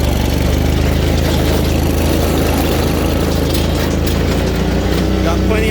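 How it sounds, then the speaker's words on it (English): A 48-inch John Deere Z410A zero-turn riding lawn mower runs at a steady, loud engine drone with a low rumble, close and continuous throughout. "This mower is very fast."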